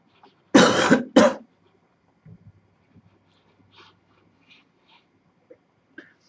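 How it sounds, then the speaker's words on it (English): Two loud, harsh coughs in quick succession from a person indoors, followed by a stretch of near silence with a few faint small knocks and rustles. "now that I'm over my coughing spell"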